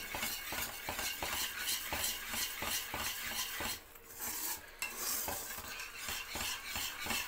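Homemade Mysore pak mixture being stirred in a pan as oil is poured in, a rhythmic run of scraping stirring strokes with faint sizzling, close and steady with a short pause partway.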